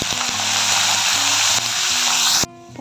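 Curry leaves drop into hot oil for tempering with ginger and asafoetida, producing a loud, steady crackling sizzle that stops abruptly near the end.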